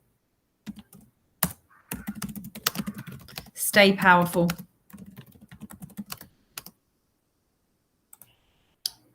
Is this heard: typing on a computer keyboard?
yes